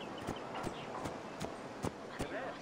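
A horse's hooves clip-clop at a steady walking rhythm on the streets of Cyrene in Assassin's Creed Origins, under a murmur of background crowd chatter.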